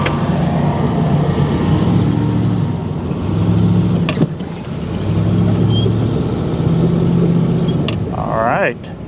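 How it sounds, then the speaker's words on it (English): Pickup truck fitted with a snow plow, engine running steadily at close range in a spring outdoor setting; the low rumble holds throughout with brief rising revs near the end, and the sound stands alone without talk. "The pickup with the plow is not an ideal tool for this job, but it's what I've got, so it's what we're using."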